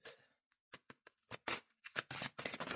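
Oracle and yoga cards are shuffled and drawn by hand, a run of close, crisp riffling bursts and flicks that start sparse and grow denser, with no talking.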